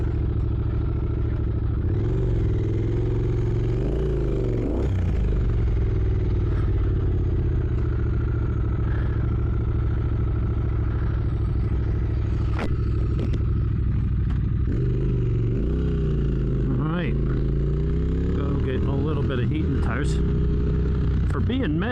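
A 2022 Triumph Speed Twin motorcycle rumbles steadily while being ridden, its low engine drone and wind noise continuous and close, with slight rises and falls as the throttle changes.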